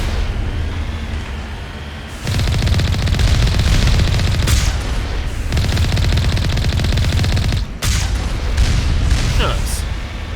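Loud bursts of rapid gunfire and booming blasts as turrets are shot at and blown up at a research facility in Mass Effect (first game, Legendary Edition), sustained volleys with brief pauses and explosive hits.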